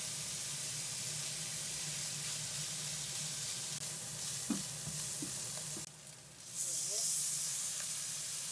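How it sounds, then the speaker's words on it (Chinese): Pork mince fries with ginger oil, cooking wine and Pixian doubanjiang in a hot wok for mapo tofu, a steady loud sizzle broken by a few stirring scrapes and a brief hiss near the end. "炒锅里呢，先加油， 油热了， 肉馅儿放进去， 加入姜油， 倒入料酒，加入我们的郫县豆瓣酱。"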